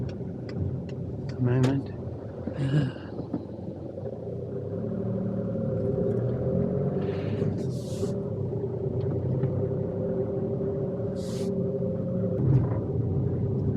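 A car engine rumbles steadily while driving on a narrow road near All Saints Church, Down Ampney, slowing to pull over, with a few scattered knocks and a brief voice over the continuous low drone.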